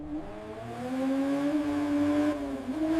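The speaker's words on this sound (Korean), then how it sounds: "페라리의 고회전 V12 자연흡기 엔진은 더 이상 설명이 필요 없습니다" Ferrari 12Cilindri with its naturally aspirated V12 revving high, a smooth rising wail that holds steady and loud, dips briefly near the end and surges again.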